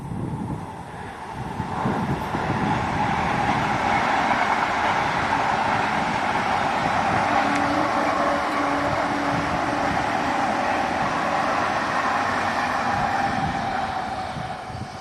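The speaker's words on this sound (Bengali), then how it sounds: "তো ট্রেনটা আসছে, আমি আর বকবো না, কেন আপনারা শুনতে পাবেন না ট্রেনের আওয়াজে" A train passes outdoors beside green grassland, making a loud, continuous rumbling roar that holds steady for its whole length, mixed with gusty wind buffeting the microphone and no voices.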